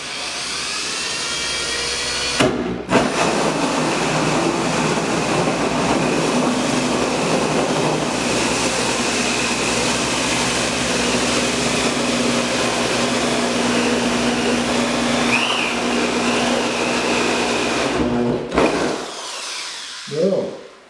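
A power drill bores a pilot hole through plastic for a homemade deer feeder, a loud, steady grinding whine held for roughly fifteen seconds between brief stops, close and continuous.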